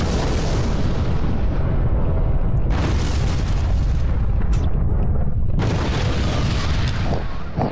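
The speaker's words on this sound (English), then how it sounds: "We're going to bombard it. We're going to unload all the ordnance on it." Planetary bombardment in the Master of Orion 3 space strategy game: a loud, continuous barrage of deep booming explosions rumbling without pause, with denser crackling blasts surging in two waves, no voices over it.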